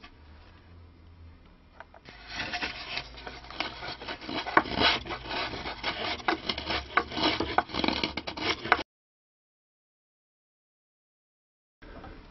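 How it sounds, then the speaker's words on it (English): A blade whittles by hand at the wood of a stick dulcimer, making close rasping scrapes in a busy run of strokes before going quiet, then starting again briefly, with no talk. "What I do tend to do now is to whittle as much as I can"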